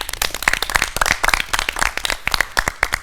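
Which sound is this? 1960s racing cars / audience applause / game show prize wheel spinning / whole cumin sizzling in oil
audience applause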